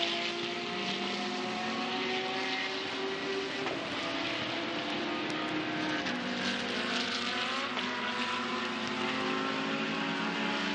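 Audi R8 LMS GT race car coming through turn 11 at Shanghai in a Blancpain GT Series Asia race, loud engine drone with rising and falling gear-change tones over steady crowd-level background noise, no voices.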